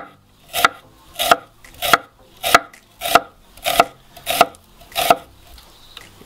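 A knife slices a single onion into thin strips on a cutting board in about nine steady, evenly spaced strokes, close and crisp, with no talking.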